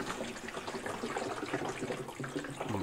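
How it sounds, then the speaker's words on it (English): Water flows steadily into a clear container during a Pythagorean theorem demonstration, filling the square on the hypotenuse with a continuous, close, even rush and trickle from start to finish. "You'll see that that same amount of water fills up"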